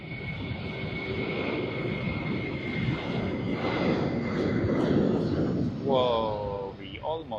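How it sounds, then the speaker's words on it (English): An airliner on its takeoff roll at Sydney Airport, a steady broad jet roar in the background that swells slightly and holds, with a brief bird chirp near the end and a voice talking over it. "we see in the background Perth service on its takeoff roll"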